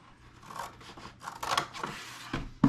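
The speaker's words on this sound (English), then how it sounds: "Right here, where I've scored it here to go all the way to the end, you cut with the scissors." Scissors snipping through a scored cardboard box, a run of short crunchy cuts coming one after another at close range, growing louder toward the end, with no talking.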